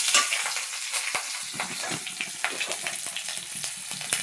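Green chilies, a bay leaf and panch phoron crackle and splatter in hot oil, loud busy sizzling broken by sharp pops and spoon stirring close by.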